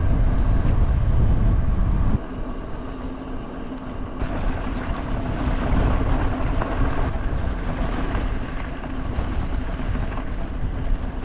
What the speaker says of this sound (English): Hadn't anticipated how windy it was going to be.